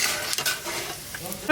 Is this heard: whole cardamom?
yes